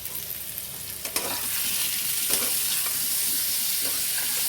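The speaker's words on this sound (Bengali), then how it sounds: "এই মশলাটা যতক্ষণ না টমেটো, পেঁয়াজ আর বাদামের গন্ধটা না যাচ্ছে ততক্ষণ আমাকে এইভাবে কষে যেতে হবে, নাড়তে হবে" Tomato, onion and nut masala sizzles in hot oil, with a steady frying hiss throughout and a few light scrapes of stirring in the pan near the start.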